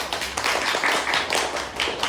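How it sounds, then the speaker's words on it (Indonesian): A classroom applauds group 2 after their presentation, with a steady wash of many hands clapping together, close and continuous for the whole moment. "Beri tepuk tangan untuk kelompok 2"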